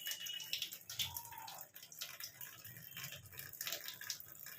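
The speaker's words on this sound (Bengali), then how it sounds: "কলটা অল্প করে চালিয়ে পুরো এই হাতে তুলে নেব" Water runs steadily from a kitchen tap at low flow while homemade butter is rinsed by hand for ghee, with soft splashing and trickling throughout and no talking.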